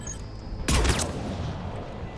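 A single sniper rifle shot in the video game Mass Effect Legendary Edition, a loud close blast with a short fading tail over a low steady game ambience.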